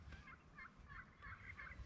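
Wild turkeys gobble during a Wisconsin spring youth hunt, with several quick rattling gobbles in a row, faint and distant against quiet woodland.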